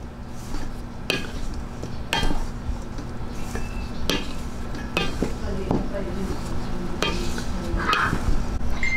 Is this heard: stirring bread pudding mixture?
yes